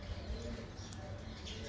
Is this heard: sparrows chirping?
yes